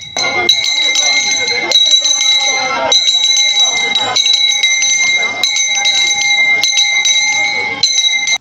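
Bright metallic bells ring out in a steady repeating pattern, struck roughly every second by a bell master at the Ngondo festival, with a voice talking over them throughout.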